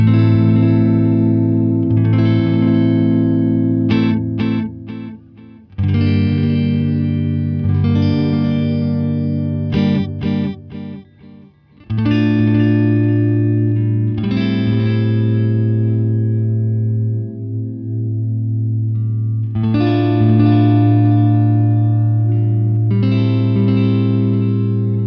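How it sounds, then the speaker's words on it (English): An electric guitar runs through an Electro-Harmonix Oceans 11 reverb pedal in echo mode, combining delay with plate reverb, playing loud chords and phrases whose repeats and reverb tails linger and swirl between strums. "it does have a nice combination of delay and plate reverb"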